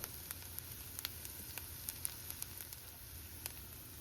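Chopped yellow onion fries in unsalted butter over medium heat for a curry paste, a quiet continuous sizzle with light crackling pops near the pan.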